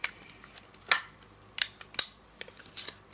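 Scissors cutting strips of paper, a series of crisp, close snips spaced irregularly, some sharper and louder than others, in a quiet room.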